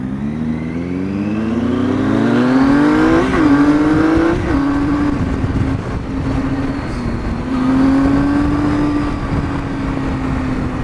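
Vehicle traffic on Gates Pass Road near Tucson, heard from a Triumph Tiger motorcycle at golden hour: an engine climbs steadily in pitch, shifts, then holds a loud, close drone with wind rush for about ten seconds.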